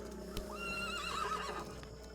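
A horse in a Roblox Wild West game gives a clear rising and falling whinny over a steady low background, with a soft hoof thud just before, moderately faint and with no talking.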